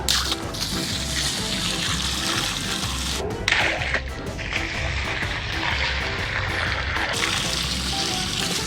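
Loud rushing, spraying water from a hose, steady and close, with a brief sharper burst midway and splashing throughout.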